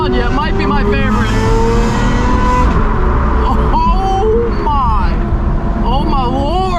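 Lamborghini Aventador SVJ fitted with a Gintani F1 exhaust and flame tune, its engine droning loud and steady with rising and falling rev sweeps up close, while people talk over it.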